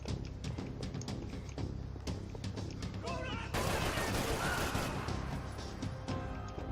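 Gunfire in the shooter video game Max Payne 3 on a yacht, with a dense run of loud shots and a brief heavier burst midway over game sounds and a faint voice.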